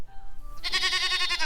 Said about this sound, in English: Look at the goat standing way up there.